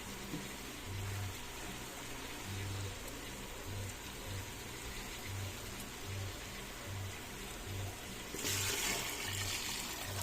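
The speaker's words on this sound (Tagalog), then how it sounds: "lalagyan na natin ito siya guys ng" Steady rushing water poured into a cooking pot of pork continues throughout with a low rhythmic thumping underneath, growing brighter and louder near the end.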